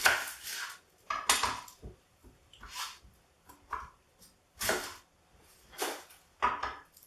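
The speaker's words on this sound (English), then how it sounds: "We're going to chop this up quite fine." Knife chopping half a small onion on a board for banana ketchup beach sauce: scattered close knocks and clacks in short bursts separated by quiet gaps, no talking.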